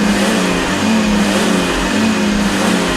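A car engine revs hard and continuously as the throttle pedal is pumped, a loud close drone with slight rises and dips and no talking.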